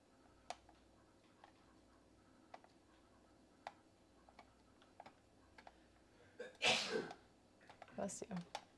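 Near the end a single sharp sneeze bursts out loud and close, followed by a smaller second burst. Before it come faint, regular ticking clicks and quiet background noise.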